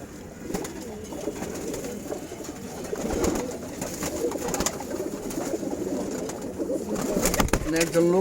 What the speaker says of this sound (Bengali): ওগুলি সব মাদি কবুতর